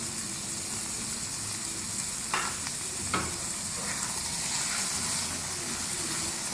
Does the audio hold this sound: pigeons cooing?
no